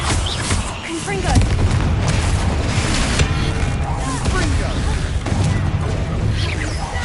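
A Confringo blasting spell explodes in Hogwarts Legacy, a loud booming blast with crackling debris that stays dense and continuous for several seconds, with fresh impacts hitting every couple of seconds.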